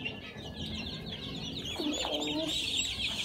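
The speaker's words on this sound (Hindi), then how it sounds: "ओ ये सबसे बड़ा टर्की है, सबसे बड़ा टर्की ये मेरे ख्याल से है ना मेल है ये" A large male turkey calls among other fowl on a farm, giving repeated clucking and gobbling-like sounds at moderate distance over a steady, busy outdoor background.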